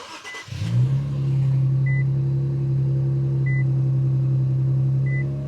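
A 3.0T Infiniti Q60 engine cranks and fires up, then settles into a steady, low idle, with a few soft electronic chimes sounding at regular intervals from inside the car.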